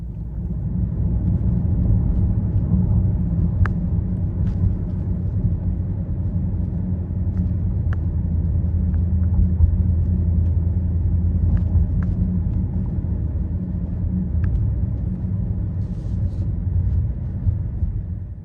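A 2024 Mercedes-AMG GLE63 S on the move, its engine and road rumble forming a steady, deep drone heard from inside the cabin, with a few faint clicks above it and no talking.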